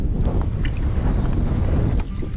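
Strong wind buffets the microphone at an exposed fishing spot, a steady low roar that never lets up and eases slightly at the very end.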